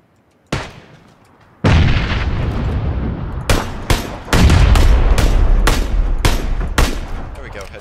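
Gunfire in the video game PUBG: a sharp shot, then repeated loud bursts and single cracks in quick succession, each followed by ringing echoes, close and dominant.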